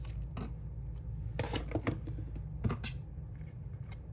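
Scissors trimming paper for a scrapbook page, a few quiet, sparse snips spaced irregularly and heard up close against a soft background, with no talking.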